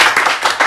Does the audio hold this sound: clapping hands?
yes